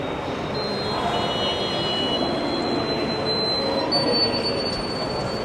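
A Chennai metro train runs through the station, a steady broadband rumble of rail and wheel noise with a faint high-pitched squeal, continuous and fairly close, with no talking.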